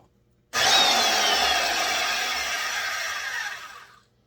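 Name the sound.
foot-powered bandsaw cutting wood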